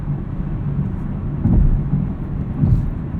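A 2018 Chevrolet Camaro 2SS with a six-speed manual, riding on run-flat tires, gives a steady low rumble of road and cabin noise with soft thumps as it drives over bumps at night.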